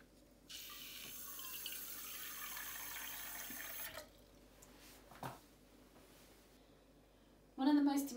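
Water poured into a plain saucepan for making honeycomb toffee, a steady broadband rush lasting about three and a half seconds, then quieter kitchen handling and a brief louder burst near the end.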